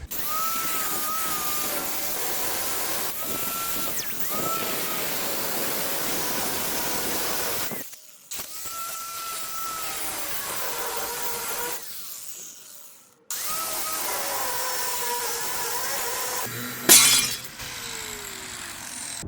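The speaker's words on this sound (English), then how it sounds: "Cutoff wheel makes pretty short work of those." A cutoff wheel grinds through the steel rub rail on a flatbed truck, a loud continuous abrasive whine with pitch shifts as it bites, broken by two short pauses and a sharp burst near the end.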